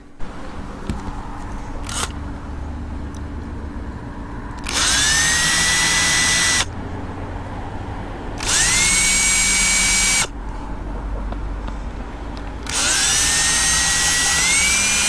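Power drill spinning out screws from an RV black tank vent, three long loud whirring bursts that rise in pitch, separated by quieter pauses with small handling clicks, no speech.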